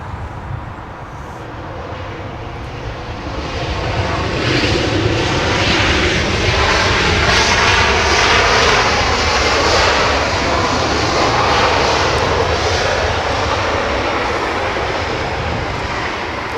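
A jet airliner flying in from Seattle comes in to land at Los Angeles International Airport, its engines a loud, broad roar that swells past a nearby listener and stays strong throughout, with no voices.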